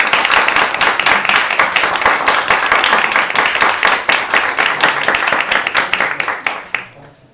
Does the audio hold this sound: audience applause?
yes